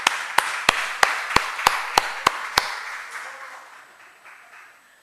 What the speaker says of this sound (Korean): 우리 박수로 환영하겠어요?